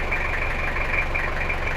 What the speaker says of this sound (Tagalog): Ang makina nito ay Toyota 2L na 4x4.